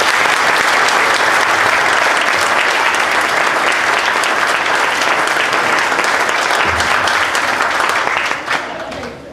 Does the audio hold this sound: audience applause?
yes